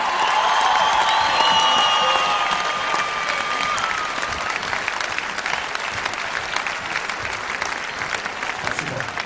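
Loud audience applause fills a hall at the Armenia Music Awards 2012, a dense, sustained roar of clapping with some cheering and whoops, and a faint whistle-like tone near the start.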